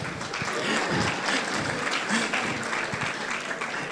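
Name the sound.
audience applause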